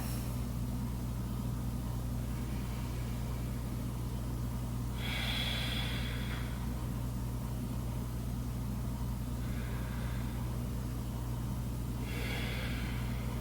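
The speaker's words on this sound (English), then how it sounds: "Deepen and lengthen your breath." Two slow, deep yoga breaths during a hatha practice, each a long airy rush drawn through the nose, spaced several seconds apart over a steady low room hum.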